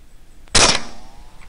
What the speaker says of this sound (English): and I'll take the follow-up shot here.